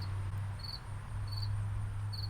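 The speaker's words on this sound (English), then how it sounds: "the stupid cricket is making so much noise" A garden cricket chirps in short, evenly spaced high bursts, about three across the span, close and clear over a low steady hum on a hot fall afternoon.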